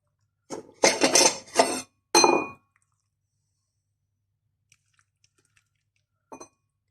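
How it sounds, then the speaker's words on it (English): A spoon scrapes and clinks against a baking dish while sausage and brussels sprout mac n cheese is served, a few close bursts of clatter followed by near silence and one last faint tap. "Let's just dish a bit up."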